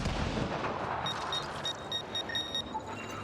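Artillery fire in the video game Mass Effect: Andromeda: booming impacts and rumbling blasts layered with sharp electronic beeps, sustained and loud over a few seconds without speech.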